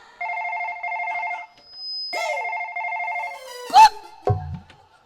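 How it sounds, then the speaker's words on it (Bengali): A mobile phone ringtone plays on a bus during a comic stage opera, repeating in loud, regular electronic bursts with a pause in between, followed by a few brief clattering noises. "এই ফোন বাসে কার"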